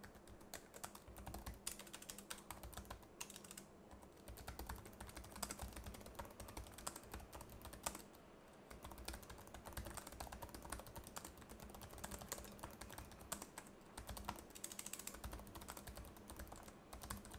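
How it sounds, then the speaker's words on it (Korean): Steady, rapid typing on the low-profile pantograph keyboard of a Jooyon Tech Superfly ultralight laptop, with soft, flat key clicks continuing throughout without any talking. "그럼 키보드 타건음을 들어보겠습니다"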